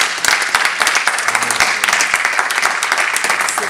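Church congregation applauding at a women's day celebration, dense sustained clapping from many hands filling the room, close and loud throughout.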